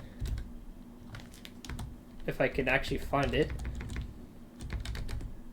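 Computer keyboard keys clack in short scattered bursts while a man sets up throttle controls for an F/A-18 in DCS, the taps close and fairly quiet and partly overlapped by his brief speech midway.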